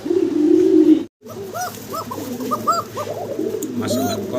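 Pigeons coo softly close by in a market stall, a grey female and a blue male pair, their repeated rolling coos following a brief burst of voice and a short gap.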